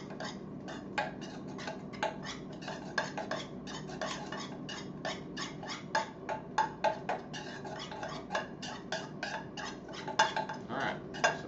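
Utensil stirring air fryer chicken wings in a bowl, a steady run of quick clinking taps and scrapes against the bowl, close and fairly quiet, with no talk.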